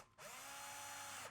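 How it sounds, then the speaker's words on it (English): A power drill drives a screw into a wooden canvas stretcher bar while installing an offset bracket: one close, steady whirring burst just over a second long that starts abruptly and winds down at the end, with no talk. "drill it in. And don't over drill and strip the screws out."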